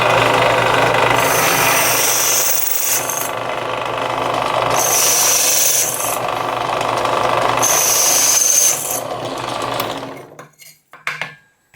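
A power drill cuts with a fresh bit, a loud steady grinding whine that rises into three sharper high-pitched bursts, then cuts out and is followed by a few quiet clicks and handling noises.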